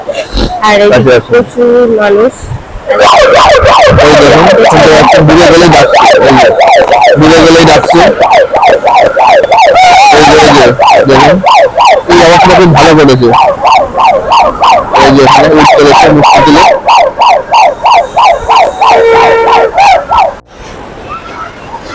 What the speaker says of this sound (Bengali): লাইফ গার্ডের লোকগুলোরা রয়েছে তা একটু সমুদ্র বেশি দূরে গেলেই ওরা হর্ন বেড়াচ্ছে আর সাইরেন দিয়ে সাবধান করছে